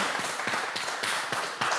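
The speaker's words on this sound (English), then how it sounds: "Let's give a big round of applause so we can feel the energy." Audience members in the house at a conference cultural event clap together, a steady, dense patter of hand claps running throughout at moderate level with no talking.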